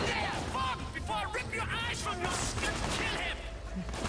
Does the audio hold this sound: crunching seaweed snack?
no